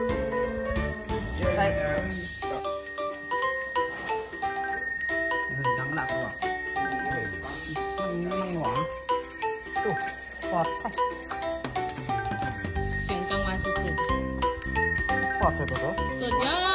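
A bicycle bell rings repeatedly with bright, sustained metallic tones while people talk and laugh throughout.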